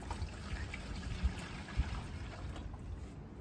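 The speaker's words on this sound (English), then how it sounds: "you get the liquid and you pour it very smoothly into there" Liquid poured smoothly into a container in a winter garden in Cumbria, a soft continuous trickling stream with a couple of faint low thumps, close by and quiet.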